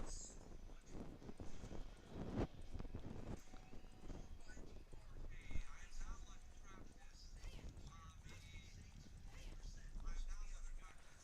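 Horse hooves clip-clop in the video game The Legend of Zelda: Ocarina of Time while riding, faint and rhythmic under someone talking, with occasional game sound effects.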